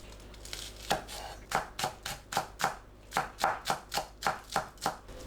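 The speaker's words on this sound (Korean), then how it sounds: "파를 작게 썰어줍니다." Spring onions cut into small pieces with a kitchen knife on a board for a stuffed green chili kimchi side dish: a steady run of about a dozen crisp, close chops at an even rhythm, with no voices.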